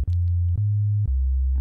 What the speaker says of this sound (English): there's my sine wave